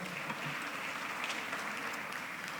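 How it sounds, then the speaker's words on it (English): A conference audience at an executive roundtable on financing Nigeria's growth gives a round of applause, a fairly soft, steady wash of clapping heard from a distance with no talk over it. "A round of applause."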